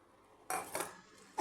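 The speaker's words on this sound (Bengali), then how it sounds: "এখন আমি তা নাড়াচাড়া করে মিশিয়ে নিচ্ছি" A spoon stirs fried bitter gourd into boiled dal in a metal pot, giving a few close scraping clatters and clinks with quiet pauses between them. No one speaks.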